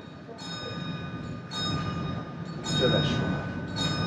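The Ferrovia Circumetnea train running around Etna rumbles steadily along the track, with tonal squeals and bell-like rings over the rolling noise, and a person speaks briefly.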